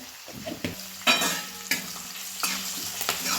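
Ground spices and turmeric roasting in a pan, with close scraping stirs and short sizzling bursts at an uneven rhythm, nobody talking.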